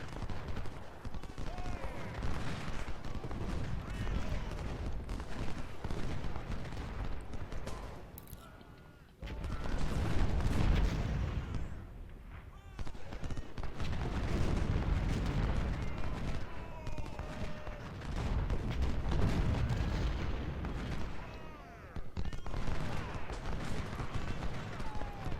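Musket volleys and artillery fire in the Civil War strategy game Ultimate General: Civil War at Port Republic, a dense, continuous battle din of crackling fusillades and heavy booms. A brief lull falls near the middle, and scattered talk runs underneath.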